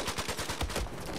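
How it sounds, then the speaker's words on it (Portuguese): Rapid gunfire in the video game Battlefield 4, a quick burst of several sharp shots in an even rhythm, loud and close, with no talk. "tô tomando uns tiros aqui da direita"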